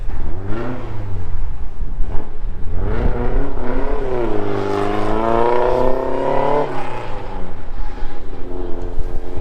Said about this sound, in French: Là il y a la voiture de rallye, la Fiat qui arrive.